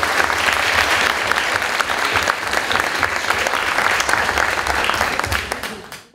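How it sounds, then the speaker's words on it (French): An audience applauds a contestant, an orator and voice actor named David Daudruy, at an eloquence contest final in Lille: dense, steady clapping from a large crowd that holds for about five seconds, then fades quickly at the end. "Je vous demande d'applaudir Monsieur David Daudruy"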